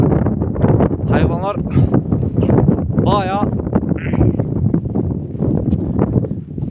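Strong wind blows outdoors on open grazing ground where a shepherd group herds animals, a continuous gusty rumble buffeting the microphone beneath someone talking and calling out.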